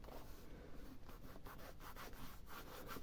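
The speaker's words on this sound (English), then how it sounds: "There's a bit there, you rub it, and it's gone." Rubbing residue off the vinyl of a Triumph Spitfire or GT6 armrest, a steady dry scrubbing friction in repeated short strokes, close up and continuous with no talking.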